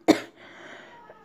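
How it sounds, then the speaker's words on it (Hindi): A single sharp cough bursts out up close, followed by a quiet lingering room tone and a faint breath. "मुझे ना थोड़ी खांसी आ गई"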